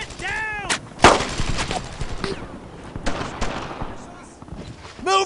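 Gunfire in the World War II shooter Brothers in Arms: Earned in Blood: sharp rifle shots and a heavy blast crack out over a noisy battlefield, with shouted voices between the bursts.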